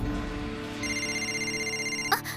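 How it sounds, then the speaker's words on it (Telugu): In an animated cartoon, a telephone rings with a steady, pulsing electronic trill that starts partway through and continues for over a second, then a brief sound cuts in near the end. "ఉండు, నేను శివాకి ఫోన్ చేస్తాను."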